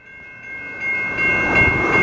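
A Norfolk Southern mixed freight train at a railroad crossing in Wyandotte, Michigan, loud and close, with steady crossing bell tones ringing over a rising rumble of the approaching train.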